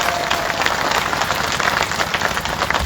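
Loud, dense crowd applause fills a political rally in the Rudauli assembly constituency of Ayodhya, a steady wash of clapping that holds evenly throughout without a break.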